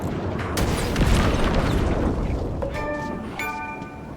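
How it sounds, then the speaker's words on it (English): A flashbang grenade detonates in Alan Wake II with a loud, broad burst followed by a sustained roar and a high ringing tone that lingers and pulses near the end, with no voices. "Throw the flashbang."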